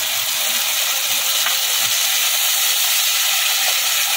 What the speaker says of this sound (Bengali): পেঁয়াজটা হালকা করে ভেজে নেওয়া হয়ে গেছে। বেটে রাখা মশলাটার মধ্যে দিয়ে দিলাম।